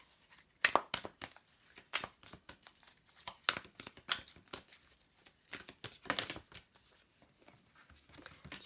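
Tarot cards being drawn and shuffled from a deck, a close, quiet series of crisp papery flicks and rustles in irregular bursts, with no talking.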